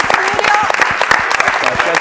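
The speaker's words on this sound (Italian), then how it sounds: "E con questo augurio che merita l'applauso del nostro" Studio audience applauding at the close of an Italian Sunday sports television programme, dense clapping with some voices over it, steady and close for the full two seconds.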